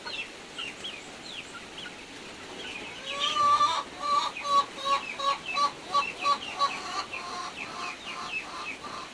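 Leopard and Plymouth Rock chickens, young birds soon to be hens and roosters in a breeding pen, give scattered chirps and then a run of rhythmic, fairly close clucking calls.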